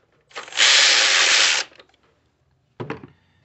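A 12 mm bolt on the intake of a 2011 Nissan Frontier 4.0 is loosened with a tool: a loud buzzing ratchet or power-driver burst of about a second, then a short metallic rattle after a pause.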